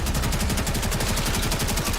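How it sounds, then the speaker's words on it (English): Sustained rapid weapon fire in the video game Warframe, shooting at a hive: a dense, steady stream of automatic shots, loud and close, running without a break. "Hive located. Destroy it with weapon fire."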